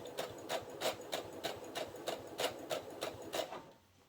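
A sewing machine stitches a mitered corner in fabric, running at a steady rhythmic pulse of about two to three stitches per second, close and moderately loud, then slowing and stopping near the end with no talking.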